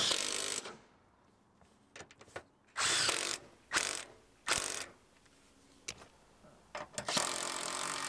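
A ratchet clicks in several quick, close bursts separated by short pauses while a part is bolted into a 2016 GMC Terrain Denali, loud and alone.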